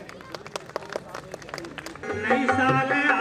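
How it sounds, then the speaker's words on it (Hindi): An audience welcoming a guest with applause at a 2021 New Year event in Mahoba: scattered claps rise into fuller clapping, with a voice speaking over the later part. "जोरदार तालियों से इनका स्वागत करें।"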